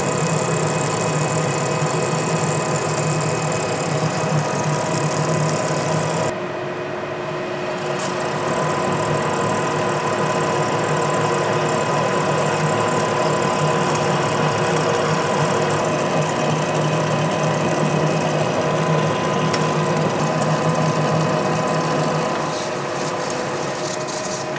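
A vertical shaper cuts steel with a constant loud mechanical drone, feeding about 10 thou per revolution at a quarter-inch depth, with one brief drop in the noise partway through and no talking.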